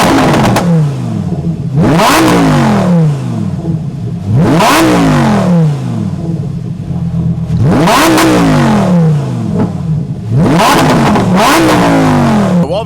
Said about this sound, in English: the exhaust sound.